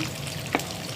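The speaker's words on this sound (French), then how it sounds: "Excusez-moi pour le bruit aussi, au cas où. Parce que je suis en train de faire le repas de midi aussi en même temps, qui est le KFC." Chicken for homemade KFC-style fried chicken sizzles in hot oil, a soft steady frying hiss with one small spattering pop, faint and in the background.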